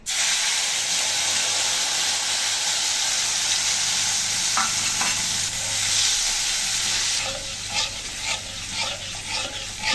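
Turmeric and spice paste sizzling in hot oil while cooking mustard hilsa fish: a loud, continuous frying hiss fills the clip, with crackles and spatters breaking through near the end as the paste is stirred.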